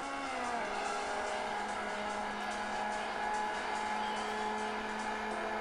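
Racing game cars on a track played on a new iPad, with a steady droning engine whine and shifting pitch, sustained and moderately loud throughout, with no talk over it.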